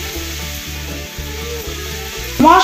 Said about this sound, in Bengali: গন্ধ বেরোতে বেটে রাখা মশলার মিশ্রণটা এতে ছেড়ে দিলাম।